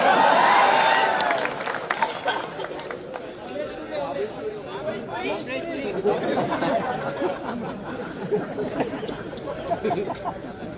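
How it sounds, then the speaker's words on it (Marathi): Large crowd at a political election rally, a dense murmur of chatter and scattered clapping that swells loudest at the start, then continues as a steady busy hubbub with voices talking over it. "काय काय काय काय गर्दी गावित साहेब, इकडे तुडुंब भरलेलं."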